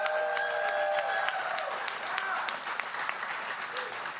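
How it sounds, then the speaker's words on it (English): A crowd at a Kentucky primary-night campaign event applauds in a sustained wash of clapping, while a sustained tone and faint voices sit underneath. "Round of applause."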